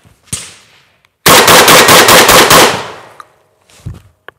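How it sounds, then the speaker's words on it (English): A Beretta 1301 Tactical shotgun fires seven rounds in rapid succession at a close outdoor range, a loud, tight burst of blasts lasting about two seconds, framed by single handling clicks before and after. "now it's simply a matter of pulling the trigger. Let's see if we can speed things up a little bit"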